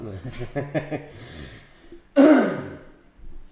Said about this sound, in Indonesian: Maaf, Bapak batuk terus ini.